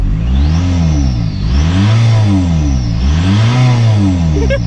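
A VW Bora diesel engine with its intake inner core removed revs up and down twice, close and loud, a rising and falling turbo-like whistle riding over the deep engine note, with a short clatter at the end.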